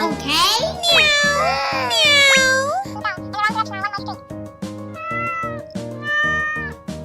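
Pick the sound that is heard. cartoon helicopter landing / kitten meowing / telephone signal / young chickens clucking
kitten meowing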